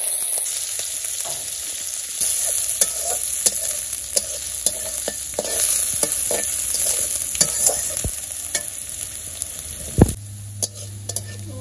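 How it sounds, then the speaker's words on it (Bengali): Onions fry in hot oil with bay leaves in a karahi, a dense continuous sizzle under frequent spatula scrapes and clinks, with one louder knock near the end. "পেঁয়াজটা ভাজা ভাজা হয়ে গেছে"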